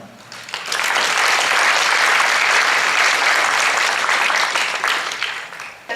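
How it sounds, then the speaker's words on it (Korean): Audience applause welcoming the chairman at an international symposium on therapeutic riding: dense, steady clapping that swells after a quiet start, holds for several seconds and fades near the end. "회장님을 큰 박수로 환영해 주시길 바랍니다"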